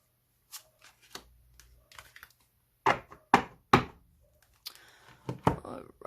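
Tarot and oracle cards being shuffled by hand: a few soft riffles early on, then a run of louder crisp riffling bursts, with quieter card handling after. No one speaks.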